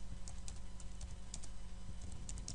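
Quiet, rapid keystrokes tap on a computer keyboard as text is typed into a LaTeX document, faint clicks over a low steady hum.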